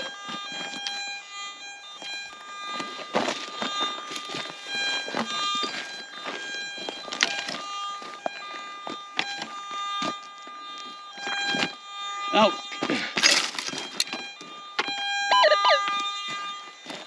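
Two metal detectors used together while hunting gold nuggets, their tones interfering in a dense mix of overlapping steady beeps and warbling electronic whines, with a brief exclamation from a voice.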